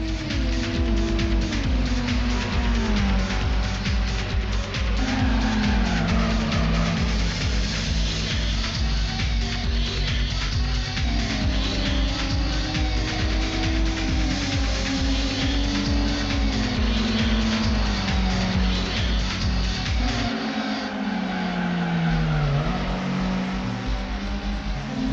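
A heavily tuned Honda Prelude race car roars through a Gran Turismo race. The loud engine revs rise and fall continuously as it shifts gears, with other cars' engines mixed in throughout.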